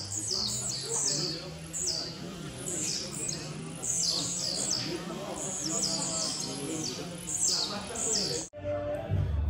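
Caged songbird at a bird-singing tournament sings loud repeated chirps and squawking phrases in quick bursts, close and continuous, with crowd murmur behind, then a sudden cut near the end.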